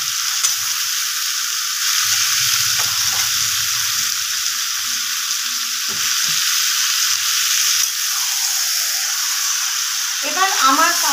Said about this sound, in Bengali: এবার আমার কাজ শুধু কষানো, কোনো রকম আর মশলাপাতি কিছুই যোগ করবো না, শুধুমাত্র কষিয়ে নেব।